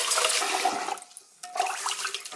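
Running water splashes into a rice cooker pot while sushi rice is rinsed and washed, a loud close rush that briefly dips and then resumes, with no talking.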